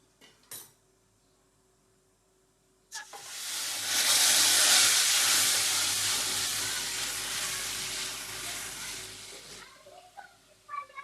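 Tempering for sambar sizzles loudly as hot spices hit oil, a sudden broad hiss that starts after a quiet stretch, swells, then slowly fades over several seconds before a few faint clinks.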